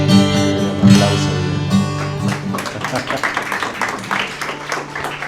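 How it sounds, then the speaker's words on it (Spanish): Congregation applause during a church sermon, a sustained burst of clapping from a crowd that follows a loud musical or vocal swell and continues steadily to the end. "Un aplauso."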